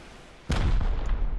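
A loud bazooka blast in the survival game Rust strikes suddenly after a quiet stretch, its deep boom rolling on as a sustained rumble with a few smaller bursts.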